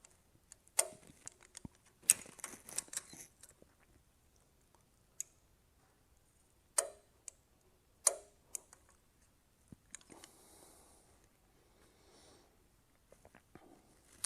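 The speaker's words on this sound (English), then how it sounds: "Now we're going to go ahead and torque between 20 and 25 foot-pounds." Ratcheting clicks from a torque wrench snugging bolts to 20–25 foot-pounds on a Jeep 4.7L stroker engine build, heard as scattered sharp ticks and short bursts of clicking, some close and crisp, others fainter, with quiet gaps between.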